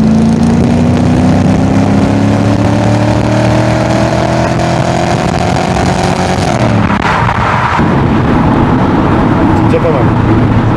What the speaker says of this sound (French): Au moins vous pourrez voir le son de l'arrière de la voiture et la voiture avec